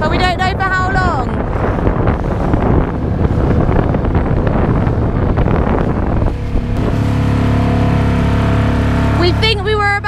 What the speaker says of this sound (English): The outboard is working, thank God, but we don't know for how long.